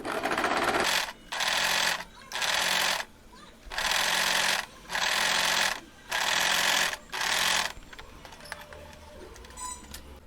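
A sewing machine stitches a small cotton dress in seven short, evenly spaced bursts of rapid rattling, each about a second long with brief pauses between, close and fairly loud.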